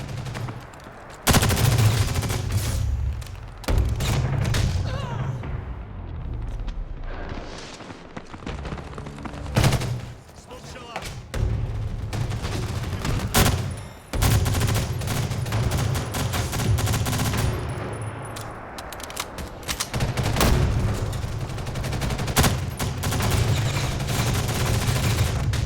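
Sustained automatic fire from a submachine gun in a first-person shooter game, loud, dense bursts running almost nonstop, broken by a few brief pauses and sharper blasts.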